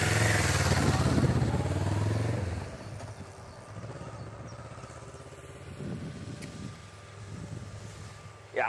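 A Kawasaki ER6n motorcycle rides past, its engine loud and close at first, then dropping to a steadier, quieter running note that swells again briefly near the end.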